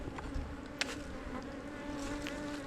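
Honey bees buzz steadily at an open hive during a bee yard inspection, a continuous close drone with a faint tap partway through.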